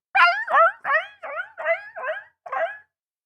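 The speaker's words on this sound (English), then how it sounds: "The sound effects of a dog-type whimpering repeated." A dog-type monster whimpers in a sound effect, seven short, high, whining yelps in quick, evenly spaced succession, close and clear against silence.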